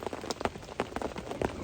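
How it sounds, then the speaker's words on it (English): Steady rain pattering on a surface outdoors at night, a dense continuous hiss with scattered heavier drop impacts, fairly close, no voices. "I was hoping for a break in the rain, but I don't think it's going to stop"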